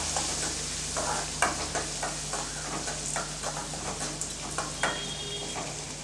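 Chopped onion and chana dal being sautéed lightly in a pan, with a steady soft sizzle and repeated scraping stirs of a spoon against the metal, close and continuous, no talking.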